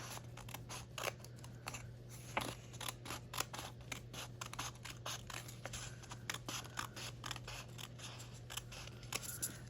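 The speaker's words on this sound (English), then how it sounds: "So I think I'm actually just going to use my scissors so I don't mess up the paper." Scissors snip steadily along the edge of a laminated paper bookmark, a quick run of close, crisp cuts and scrapes with no talking.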